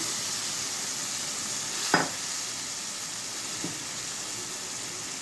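Pieces of lote fish frying in hot oil make a steady, close hiss, broken by one sharp clack partway through and a softer knock a little later.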